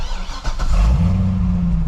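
A Corvette C6 ZR1 V8 fires up, a starter whir and catch swelling into a loud, steady low rumble that holds close and alone to the end.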